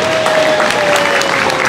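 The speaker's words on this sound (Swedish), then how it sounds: "applåd!" Loud, close applause from runners and spectators at the start of the Kretsloppet race in Borås, a brief dense burst of clapping with a faint steady tone underneath.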